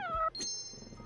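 Cat meowing in a video game, one short close meow followed by a bright chime-like tinkle, faint and brief.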